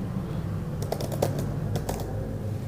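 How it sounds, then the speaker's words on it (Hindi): Typing on a computer keyboard: a short run of crisp, close key clicks in two quick bursts over a steady background hum, with no talking. "इधर हम टाइप करेंगे पायनियर"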